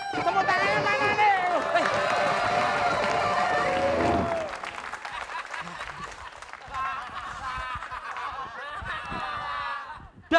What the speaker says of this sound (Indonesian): Tepuk tangannya mana nih?